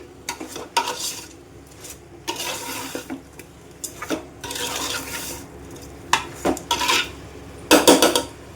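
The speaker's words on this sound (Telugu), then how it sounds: "ఇలా వేసుకున్న తర్వాత ఈ మొత్తం ముక్కలకు పట్టే విధంగా అయితే మిక్స్ చేసుకోవాలి." Chopped vegetables in gravy being stirred in a cooking pot in a village kitchen, with irregular clinks and scrapes of a metal spoon against the pot and a faint sizzle underneath, close up and with no voices.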